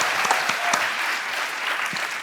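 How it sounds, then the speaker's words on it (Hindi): A studio audience on The Kapil Sharma Show applauds loudly and steadily, dense clapping that fills the whole moment without pause. "एक बार फिर से जोरदार तालियां"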